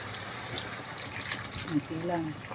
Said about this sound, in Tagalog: Ngayon, lalagyan natin siya ng tubig, no?